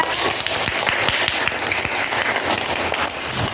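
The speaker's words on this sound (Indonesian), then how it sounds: "Beri aplaus untuk Dapa" Steady classroom applause from a group of students, loud and continuous throughout with dense overlapping claps and no talking.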